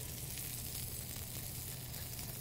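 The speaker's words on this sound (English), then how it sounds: "I'm gonna sear that real good. Crank it up a little bit." Steak searing hard in a hot pan with a little butter on turned-up heat, a steady loud sizzle and crackle running unbroken throughout with no talking.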